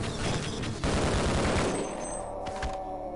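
Sustained rapid gunfire in the video game Half-Life: Decay, a dense, loud volley of overlapping shots for the first two seconds that thins into scattered bursts, with no talking.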